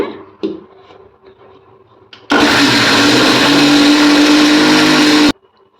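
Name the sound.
mixer grinder grinding rice and spices into dosa batter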